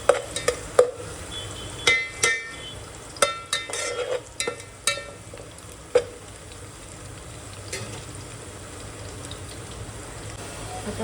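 Cashews and raisins frying with onion in a pan, with scattered clinks and scrapes from stirring over a low, steady sizzle, sharper taps in the first half and a quieter stretch after.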